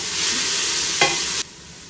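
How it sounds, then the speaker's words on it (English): Onion and orange pepper cooking in a pot, stirred with a wooden spoon, give a steady bright sizzle with one brief scrape near the middle before the sound suddenly drops away, with no talking. "the peppers are here cooking in the pot"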